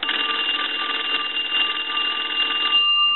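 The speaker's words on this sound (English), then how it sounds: "So let's go ahead and ring the telephone" A Western Electric three-slot payphone's bell rings loudly and continuously for nearly three seconds, a steady metallic trill that stops abruptly and leaves a short fading tail.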